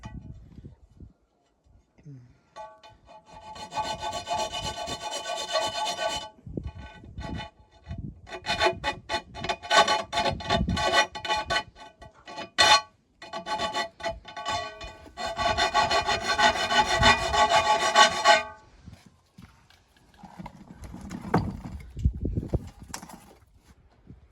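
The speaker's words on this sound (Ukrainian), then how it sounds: "будемо різати далі дрова" A hand saw cuts firewood in bursts of quick, rhythmic rasping strokes, separated by short pauses and quieter knocks, fairly close by.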